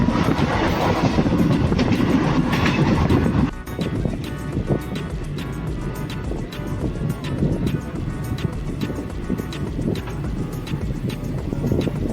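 A train from Nepal arriving at Malda Town rumbles along the rails with a regular clattering rhythm of wheels over track joints, loud and continuous, heavier in the first few seconds.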